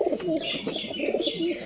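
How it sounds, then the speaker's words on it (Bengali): Domestic pigeons kept for flying coo continuously at close range, a steady layered murmur of low, throaty calls from several birds, with no talk. "কবুতর উড়াবো।"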